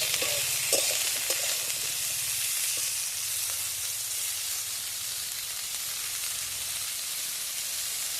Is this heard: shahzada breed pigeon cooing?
no